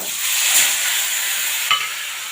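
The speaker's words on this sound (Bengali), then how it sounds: "তেল গরম হয়ে গেছে, মাছটা এবারে দিয়ে দেবো।" Fish frying in hot oil in a home kitchen, a loud, steady sizzling hiss close by that holds throughout, with a couple of brief spattering pops, no voices.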